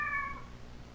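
A cat in the Kentucky Route Zero video game gives a single short meow at the very start, then only faint background remains.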